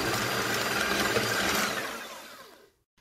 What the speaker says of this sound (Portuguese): Eu vou bater na batedeira até elas ficarem bem mais clarinhas.